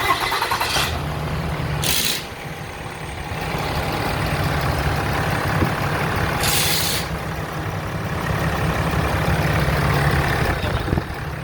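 A Dodge Ram 6.7 L Cummins diesel pickup engine idles steadily and loudly throughout, with two short bursts of hissing air partway through.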